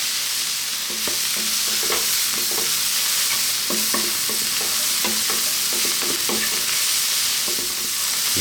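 Vegetables for Indian vegetable fried rice sizzle steadily in a hot pan, with frequent scraping and stirring knocks from a spoon breaking through a constant loud frying hiss.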